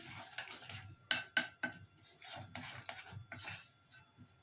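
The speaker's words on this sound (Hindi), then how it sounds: "ये देखिए आहिस्ता आहिस्ता आपने चम्मच को चलाना है।" A spoon stirring chocolate cake batter with flour in a bowl, soft scraping strokes with a few bright clinks of metal on the bowl, close and quiet, no talking.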